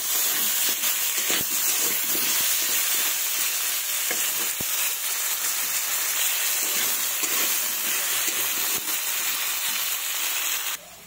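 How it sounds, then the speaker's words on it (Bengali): Potatoes frying in oil for a duck egg curry, seasoned with salt and turmeric, give a loud, steady sizzle and hiss up close, with occasional stirring knocks and no talk. "আলুগুলোকে ভালো করে ভেজে নেব"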